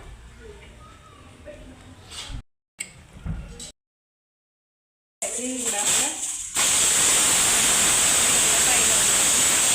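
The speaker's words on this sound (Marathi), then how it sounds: "पाणी टाकायचं पाणी टाकायचं" A voice talks briefly, then a steady, loud rush of water pours into a pot of mutton curry, splashing continuously for several seconds.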